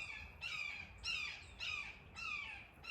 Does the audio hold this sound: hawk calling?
yes